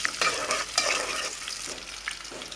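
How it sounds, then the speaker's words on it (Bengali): Garlic frying in hot oil in a pan for jute-leaf dal, a loud, close crackling sizzle with a few sharp bursts and spatters that ease slightly toward the end. "তেল দিয়ে দিলাম রসুন দিয়ে দিলাম"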